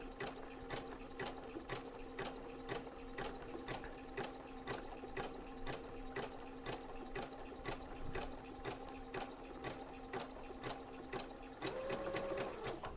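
A sewing machine fitted with a pearls and sequins foot stitches pearls onto fabric, its needle thumping in a quick, even rhythm. The pace holds steady and close, and a brief whirring tone rises near the end.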